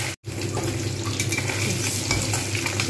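Bhetki fish fries in a pan for doi shorshe bhetki, a steady close sizzle with faint stirring or utensil clinks running throughout.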